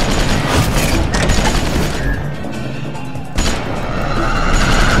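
Grenade explosions and gunfire in the video game Tales from the Borderlands, a loud dense barrage of crashing blasts and bursts throughout, with a brief pause near the end before the din resumes.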